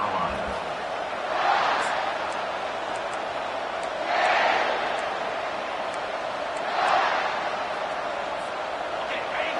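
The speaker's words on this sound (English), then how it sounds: "This crowd, full throat, splitting the eardrums and letting them know it's going to be a long day" A stadium crowd roars during a college football video game, South Carolina against Texas A&M, a broad sustained din that swells in three loud surges while a commentator talks over it.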